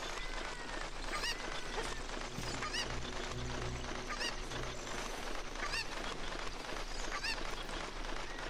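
Cucco chicken in the video game The Legend of Zelda: Ocarina of Time, giving short squawking clucks at roughly regular intervals over dense, busy game background sound.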